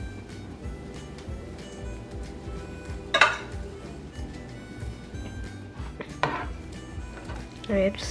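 Fried gobi manchurian cauliflower pieces tossed into gravy in a cooking pan, heard as a few scattered clatters and scrapes of utensil against pan over a steady kitchen background.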